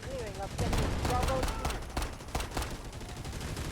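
Rapid bursts of gunfire crackle in quick volleys over a dense background in the mobile shooter game Delta Force Mobile, with a voice speaking through parts of it.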